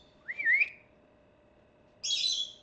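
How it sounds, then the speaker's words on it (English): Pet birds indoors give two loud whistled chirps: a rising, sliding call early on, then a bright high burst after a short pause, clear against a quiet room. "Why are the birds getting so loud all of a sudden?"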